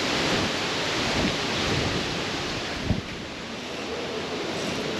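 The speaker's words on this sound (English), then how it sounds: "maybe get out of the wind" Strong wind buffets a microphone outdoors beside a Toyota Troopy under repair, a constant loud roaring rush with one brief thump partway through.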